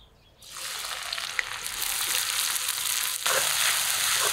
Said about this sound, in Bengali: তেল টনটনে গরম হয়ে গেছে, পেঁয়াজ কুচি দিয়ে দিলাম।